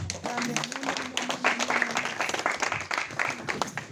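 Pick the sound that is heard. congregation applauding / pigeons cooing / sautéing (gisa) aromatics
congregation applauding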